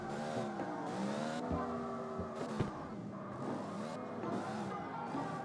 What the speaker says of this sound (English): let's see what happens when I drift with 2nd gear at a sharp curve with its speed